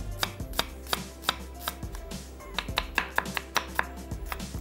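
A small onion being chopped with a knife on a board, a quick regular series of sharp close taps, about three to four per second, crisp and alone without speech.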